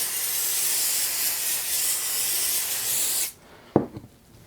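505 temporary spray adhesive sprayed onto fabric for a potholder, a loud continuous aerosol hiss lasting about three seconds that cuts off abruptly, followed by a couple of soft handling knocks.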